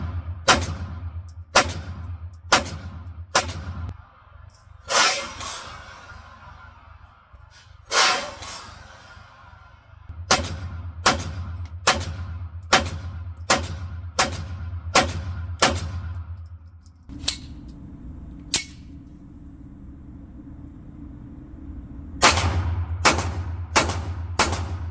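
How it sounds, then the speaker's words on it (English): A PSA Micro Dagger pistol fires roughly eighteen sharp, loud shots in uneven runs with short gaps, each crack standing out over a low steady hum. "I'll fire 1 round and then the mag will kind of pop out"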